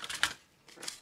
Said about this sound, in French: je vais couper les coins